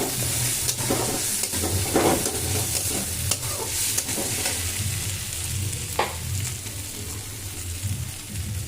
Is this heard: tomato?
yes